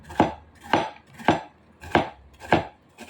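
A knife chops through bitter gourd (ampalaya) on a board, six evenly spaced crisp strikes at a steady rhythm, close and clear with nothing else heard.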